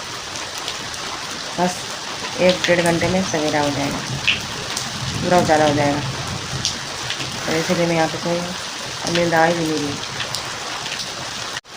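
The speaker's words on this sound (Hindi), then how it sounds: "तो गाइस अब तो और तेज़ बारिश हो रही" Heavy rain falls outside during a storm, a constant dense hiss of drops on surfaces running beneath someone speaking quietly nearby for most of the stretch.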